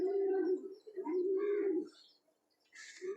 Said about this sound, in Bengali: এই যে কবুতরটা দেখেন, তো এই কবুতরটা ওই দিন কিনে আনছি।